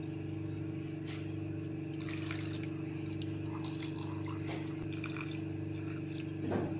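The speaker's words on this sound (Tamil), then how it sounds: "இந்த மாங்காய் முங்குத அளவுக்கு நம்ம தண்ணியை ஊற்றிடணும்" Water pours and splashes steadily into a container over mangoes, with a few sharper clinks and bursts near the end.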